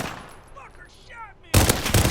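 A sharp burst of SKS rifle fire erupts in the Modern Warfare video game, loud and sudden after a quieter stretch with faint background game sounds.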